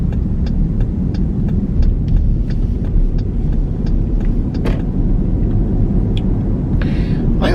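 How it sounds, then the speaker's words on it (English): A car turn signal ticking in an even, quick rhythm inside a moving vehicle, the light clicks sitting over a loud, constant road and engine rumble. "the sound of a turn signal."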